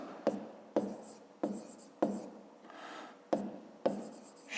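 Pen or pencil writing on paper during a fifth-grade maths exercise, a series of short scratchy strokes with sharp onsets repeating about every half second to second, close and fairly quiet, with no talking.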